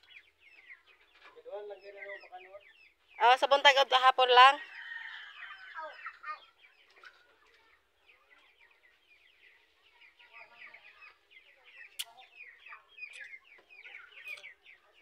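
Chickens cluck and call around a farmyard where ducks are also being fed, with a loud burst of fowl calls in the middle and softer clucks scattered throughout while a person speaks briefly.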